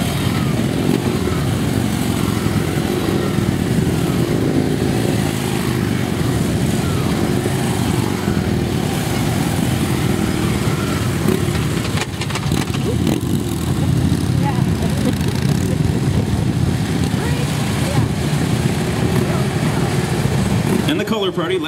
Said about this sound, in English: The entire 2012 motorcycle team moves off to the end of the track.